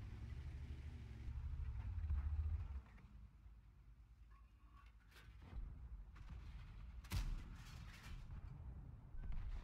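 Tank gunfire in the World of Tanks video game: a low, rumbling engine-like drone with a couple of sharp, booming shots that stand out partway through, no voices.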